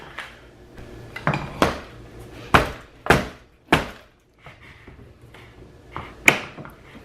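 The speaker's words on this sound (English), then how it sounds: "Nothing like a makeshift hammer" A steering column from a 2001 Lexus IS300 being knocked loose with a makeshift hammer, about eight sharp metallic clanks spaced irregularly, close and loud, with quiet pauses and softer taps between.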